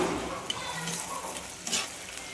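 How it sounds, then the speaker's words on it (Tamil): Onions sauté in a pan, a soft continuous sizzle and frying crackle with a few faint stirring scrapes. "வெங்காயம் வதங்கின்னு இருக்கு."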